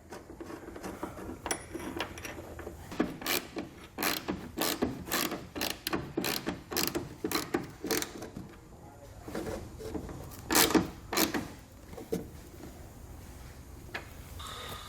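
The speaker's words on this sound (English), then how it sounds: "We're going to use that factory bolt that we just pulled out, put it through the bracket, and thread it back into position." A factory bolt is threaded through a pickup tailgate bracket, with a series of quiet ratchet clicks and metallic ticks in uneven bursts, close but soft.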